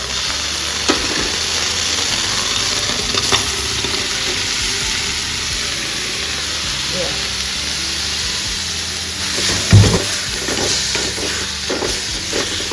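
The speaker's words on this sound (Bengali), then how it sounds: "এটাকে এবার ভাজা হতে হতে এখান থেকে তেল বেরোবে" Tomatoes frying in a smoking-hot wok with no oil, a steady close sizzle with occasional stirring scrapes and a sharp clack near the end.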